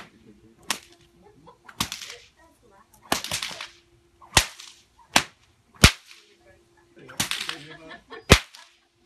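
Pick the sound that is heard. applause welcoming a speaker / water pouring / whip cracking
whip cracking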